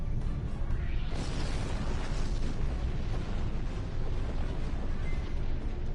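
Explosion during a Star Trek Online space battle with Romulan warbirds and plasma torpedoes, a sustained roaring blast with rumbling debris that fills the whole moment, loud and close with no talk over it.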